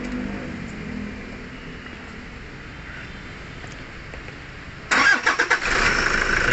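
Quiet background hum, then the engine of a 2013 Toyota Fortuner with a low power issue cranks with a few sputtering bursts and catches into a loud, steady idle near the end.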